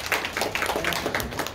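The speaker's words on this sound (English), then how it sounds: "Let's give Holly a round of applause." An audience at a live card magic performance claps, a brisk patter of many hands close by that keeps a steady density for the whole short stretch.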